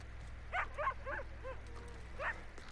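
Several quick dog barks and yips in Red Dead Redemption 2, a short burst of about five barks close by followed by one more after a pause, with a low steady background hum.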